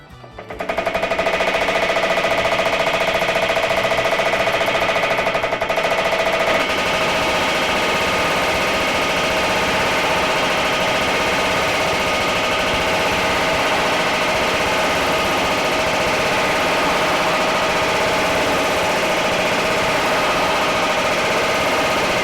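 A Baileigh power hammer at Walden Hammer Works, fitted with Yoder dies, pounds in a fast, continuous, loud mechanical rattle that holds steady for over twenty seconds, easing slightly after the first few seconds.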